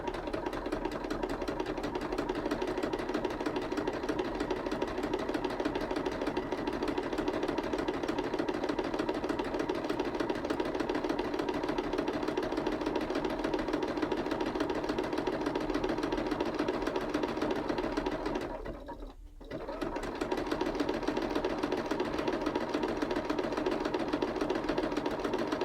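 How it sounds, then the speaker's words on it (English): A sewing machine runs steadily while stitching a coiled rope coaster in a zigzag, giving a continuous close mechanical whir with a fast even rhythm and one brief pause near the end. "it's just turning and sewing and turning and sewing"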